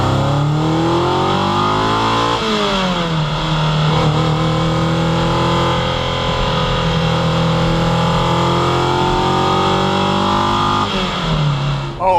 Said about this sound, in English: Totally different, the flat plane V8 to the normal sort of American type of V8s that you hear.